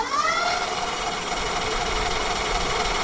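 A Tesway X9 all-wheel-drive e-bike with 4000W peak dual motors and a 48V 30Ah battery runs at full throttle while up on its kickstand, giving a steady high-pitched electric whine and rattling vibration, loud and close with no talk.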